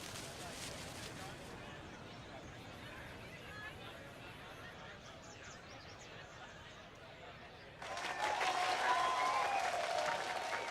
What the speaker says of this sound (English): Everyone give me a round of applause, please.